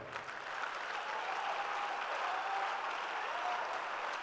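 An audience at a conference claps steadily, a soft, even wash of applause that holds for several seconds at a fairly distant, low level.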